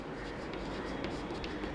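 A pen or chalk scratches steadily while an equation of motion is written out for a physics lesson, a soft, continuous writing sound with faint taps and no speech.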